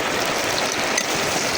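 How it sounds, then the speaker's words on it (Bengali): Onions sizzle and fry in a pan for a Bangladeshi-style chicken curry, a dense, even crackle of hissing and popping held at a steady level with no talk. "পেঁয়াজটা ভেজে নিব।"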